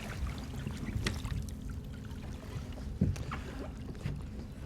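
A sea kayak is rolled back upright in the water with sloshing, gurgling water throughout and a couple of louder splashes close by.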